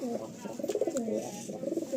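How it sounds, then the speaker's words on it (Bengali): Madrasi pigeons in a loft give repeated low, rolling coos, fairly close and steady, with a few faint chirps mixed in. "এই হচ্ছে কিছু ম্যাড্রাসি পায়রা ভাইয়ের লফটের"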